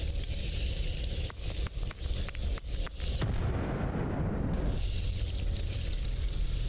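Grenade blast in the video game S.T.A.L.K.E.R. 2: Heart of Chornobyl, a deep rumbling boom that swells for about two seconds over loud, continuous game noise with repeated sharp pops.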